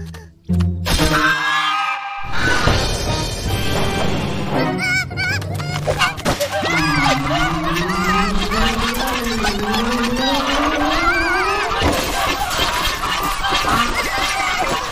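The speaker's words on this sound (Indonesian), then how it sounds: "Angsa-angsa ni garang." Cartoon geese honking loudly in an animated children's show, a continuous clamor of overlapping honks with a rising, swooping cartoon sound effect over a dense, busy background.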